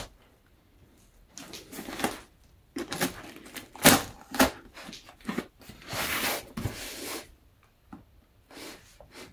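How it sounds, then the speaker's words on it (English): A blade held sideways slicing open the packaging of a vintage Lego Gas Station set, irregular ripping and scraping strokes in close, loud bursts with short pauses between them. "I'll be careful not to cut into my actual item by holding the blade sideways."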